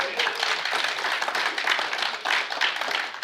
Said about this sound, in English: You better applaud for that one